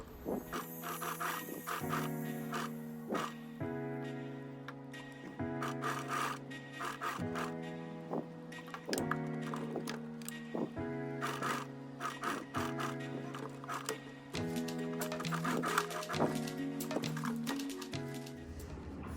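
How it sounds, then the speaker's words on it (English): A sewing machine runs a seam along t-shirt neckbinding tape, a few millimetres from the tape's edge: steady rapid stitching in bursts of a few seconds, each broken by a brief stop, close and clear throughout with no talking. "I will sew a seam just 1 millimeter away from the edge of the tape"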